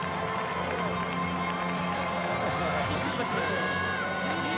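Arena crowd at the Pride Grand Prix 2000 finals rising in a standing ovation for fighter Mark Coleman, a dense steady roar of cheering and whoops, with an announcer talking over it.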